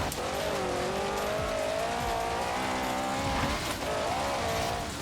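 Car driving hard in Forza Horizon 3, a lowered, top-heavy build, engine revving steadily with rising and falling pitch and tire squeal as it struggles through turns, loud and continuous with no talking.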